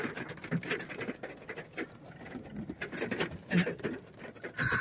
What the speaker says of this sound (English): Big rain.